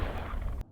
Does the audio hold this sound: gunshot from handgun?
yes